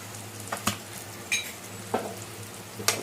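Green peas and paneer fry in a pan with a soft steady sizzle, broken by a handful of sharp popping crackles spaced about half a second apart, close and with no voices.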